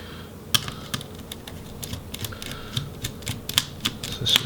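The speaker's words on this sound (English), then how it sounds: "Go ahead and remove this Wi-Fi card." Small screw and component work while a Wi-Fi card is taken out of a Lenovo Flex 4 laptop: a run of light, close plastic clicks and taps, irregular and quick, over a steady low hum.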